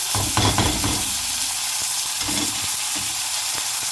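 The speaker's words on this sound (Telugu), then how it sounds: "వేసిన తర్వాత కొంచెం ఫ్రై కావాలి" A tempering of spices frying with boiled fenugreek seeds and toor dal stirred in, giving a close, loud, steady sizzle with brief stirring bumps and no talking.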